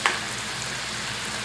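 Sweetbreads frying in a pan of oil and butter, a steady close sizzle with faint crackles, no voices.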